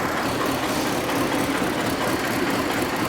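An old tractor engine runs steadily in first gear, a continuous loud, rough rumble with a knocking, chugging texture throughout and no voices.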